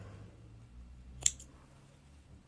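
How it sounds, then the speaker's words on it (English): A single sharp snip of scissors cutting yarn while finishing a crocheted hat, one quick close click standing alone over quiet room tone. "And snip."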